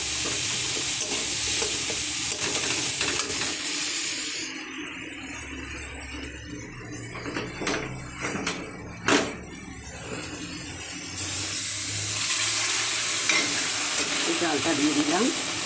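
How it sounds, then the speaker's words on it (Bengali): Tomatoes fry in a hot pan, a steady loud sizzle, with a spoon stirring and scraping through it and a couple of sharp clinks against the pan midway, the hiss swelling again toward the end. "টমেটোটা এদিকে কষাই হোক, একটু সিদ্ধ"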